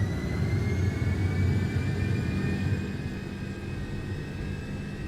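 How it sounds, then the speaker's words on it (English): MD-11 jet engines spool up for takeoff in the X-Plane 12 simulator, giving a loud, steady roar with a rising whine over a deep rumble that eases slightly partway through, with no voices over it. "those takeoff sounds are nice"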